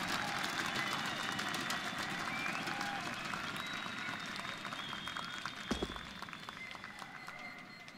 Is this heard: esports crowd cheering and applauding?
yes